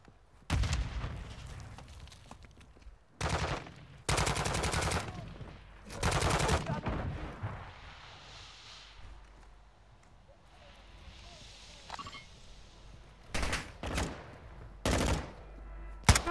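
Gunfire in the shooter game Warzone 2.0 arrives as loud sharp bursts and automatic volleys scattered through the clip, with quieter stretches of ambient noise between them.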